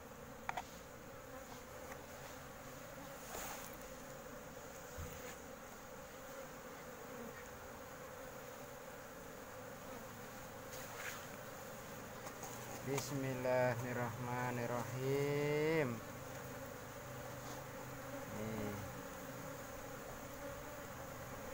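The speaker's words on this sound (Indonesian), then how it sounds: "Ya teman-teman, lebahnya banyak sekali." Asian honeybees (Apis cerana) hum in a steady, dense drone during a hive transfer, holding a constant buzz throughout with a louder burst near the middle, as a person speaks over it.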